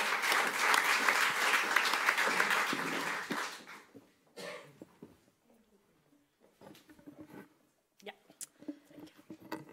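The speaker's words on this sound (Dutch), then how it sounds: "een applaus alsjeblieft." Audience at a national remembrance debate applauding a speaker, loud sustained clapping for about four seconds that fades out, followed by quieter rustling, scattered small sounds and a voice speaking.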